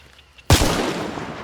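A single sharp, loud gunshot in a shooting range video game bursts in suddenly and rings out with a long rumbling decay.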